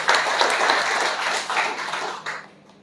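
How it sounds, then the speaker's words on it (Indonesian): A church congregation at a Sunday service breaks into steady applause, a dense wash of clapping that holds for a few seconds and then tapers off. "Tepuk tangan dulu deh buat Tuhan."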